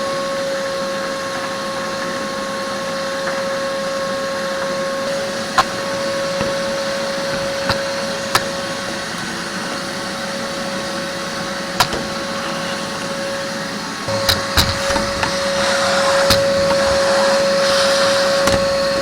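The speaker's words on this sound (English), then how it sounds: "I had to vacuum the shavings and everything else from down here." A vacuum cleaner sucks up metal shavings inside the nose of a Challenger 2 ultralight airplane, a loud steady whine running throughout with occasional sharp clicks and rattles of debris, rising in roughness near the end.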